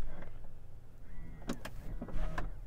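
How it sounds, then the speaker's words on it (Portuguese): Electric window of a BMW iX 50 motoring shut automatically after the door is pulled closed by suction, a short faint whirring rise in a quiet interior with a few small clicks and thumps. "O carro sugou e fechou o vidro,"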